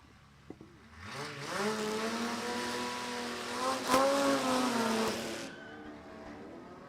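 A T-bucket hot rod at Warwick Dragway in Australia roars past during drag racing qualifying, its engine note climbing and swelling to a loud peak before fading away.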